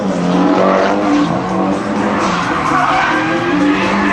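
At a Desoto Drift NOPI qualifier, a drift car gets an e-brake grab, slides and spins out. Its tires squeal loud and steady, mixed with a continuous engine roar across the whole stretch.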